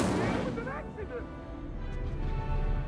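Spell effects in Hogwarts Legacy whoosh and rumble steadily throughout, with booming, blast-like impacts while a voice calls out spell names over them.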